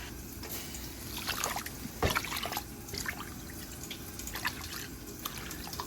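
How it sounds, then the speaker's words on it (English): Water is poured into a cooking pot for grits in a home kitchen, with irregular splashes and drips, one sharper splash in the middle, at a moderate level. "Now I'm going to add 5 cups of water."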